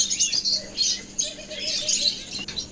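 Pet lovebirds in a cage chirp and tweet in quick, high-pitched bursts, close by and nearly nonstop for a few seconds.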